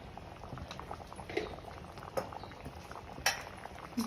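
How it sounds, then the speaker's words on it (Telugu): Arbi (taro root) curry simmers in a pot, giving a steady close bubbling with scattered small pops and faint clinks. "ఇది కాసేపు ఇట్లా ఉడకనిద్దాం."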